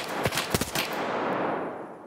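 Several gunshots crack out in quick succession in an Escape From Tarkov raid on the Customs map, loud and close, followed by a fading reverberant tail.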